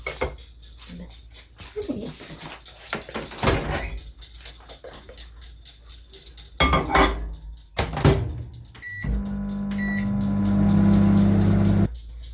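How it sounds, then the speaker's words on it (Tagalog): Kitchen microwave oven heating a milk, water and butter mixture for about a minute, with clatter and door thumps first, then a steady low hum near the end. "So i-heat up ko lang ito sa microwave ng about mga 1 minute."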